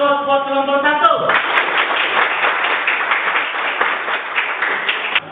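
Classroom group applauding a group 1 presentation during a teaching practice session, dense steady clapping from many hands close by, following a brief spoken voice at the start.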